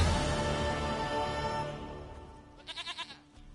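A goat in The Witcher video game bleats in a short wavering run of four or five pulses near the end, faint and following a fading layer of game music and ambience.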